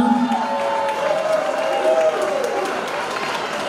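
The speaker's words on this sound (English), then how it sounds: "Let me hear you cheer in that corner." A crowd cheers and claps from one corner of the room at an Assyrian Aid Society Christmas party, a short burst of cheering mixed with an amplified voice.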